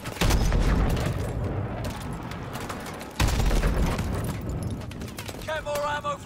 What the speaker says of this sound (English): Somebody's shooting.